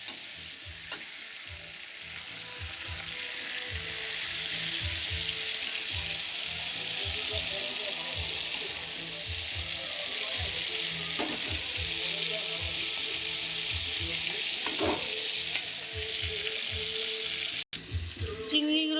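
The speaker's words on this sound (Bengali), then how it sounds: "চিংড়ি মাছটা লাল করে ভাজবো। যতক্ষণ ভাজা না হয় ভাজতে থাকবো।" Prawns fry in hot oil in a pan, sizzling in a steady hiss. Scraping, stirring clicks from a utensil break in now and then, and no speech is heard.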